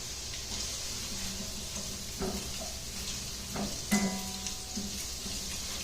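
A mixture for braised short ribs is stirred in a pan, with a faint steady sizzle and a few soft scraping knocks of the utensil against the pan.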